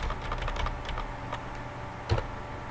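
Fingers type a word on a computer keyboard, a quick run of close, light key clicks ending in one firmer press, over a steady background hiss.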